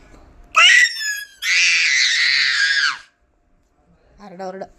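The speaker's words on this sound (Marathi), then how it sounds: "एवढ्या जोरात ओरडतात का?" Two young girls scream loudly indoors at home, a shrill, piercing wail lasting over two seconds and then a short pause, followed by a briefer high-pitched shriek.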